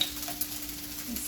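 Chicken chow mein fries in a pan as it is stirred and soy sauce goes in, a brief, steady close sizzle with faint scraping over a low electrical hum.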